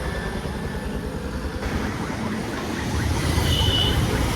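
Heavy Dhaka city road traffic heard from a bicycle, a dense steady roar of engines and tyres that swells slightly louder near the end, with a faint high whine passing over it.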